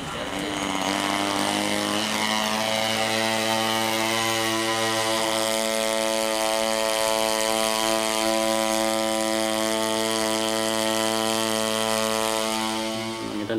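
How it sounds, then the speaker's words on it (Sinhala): Large spraying drone used for disinfection against COVID-19, a steady loud buzzing whine of spinning rotors holding an even pitch throughout, close and continuous with no voices. "ප්‍රමාණික විශාල ඩ්‍රෝන් එකක් පාවිච්චි කරලා තියෙනවා."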